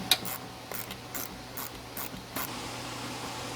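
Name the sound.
ratchet removing 10mm bolts from Ford F-150 headlight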